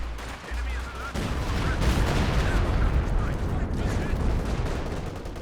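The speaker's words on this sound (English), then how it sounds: "Another pretty decent barrage there, targeting across this way" Artillery barrage in a Company of Heroes 2 battle, a dense, loud stretch of overlapping explosions and gunfire rumbling continuously for several seconds.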